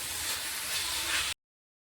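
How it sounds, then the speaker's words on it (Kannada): Coconut mixture frying in a pan for dhaba-style egg gravy: a steady, close hissing sizzle that cuts off abruptly into silence. "ಇದನ್ನು ನಾನು ಇವಾಗ ಚೆನ್ನಾಗಿ ಹುರಿದು ತೊಗೋತೀನಿ"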